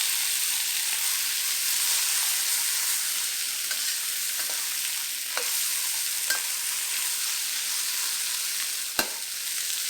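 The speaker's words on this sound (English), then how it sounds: "flip the pork belly over and brown the other side as well" Pork belly browns in a frying pan with a steady, dense sizzle of hot oil, dotted with a few faint pops and crackles and one sharper snap near the end.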